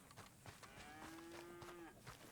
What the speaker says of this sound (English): Oh my god, we've got cows.